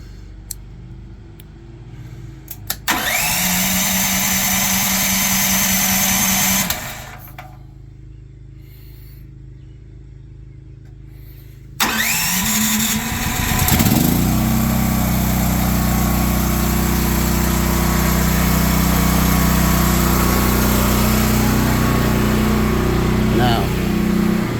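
A Predator 13000 watt generator running on propane, heard from about 15 feet away, cranks and starts up, settling into a loud, steady engine drone that runs to the end with no one talking.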